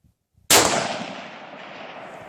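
A single sharp rifle shot from a Spanish 1916 Mauser converted to 7.62x51 CETME, cracking loudly and then rolling off in a long, fading echo.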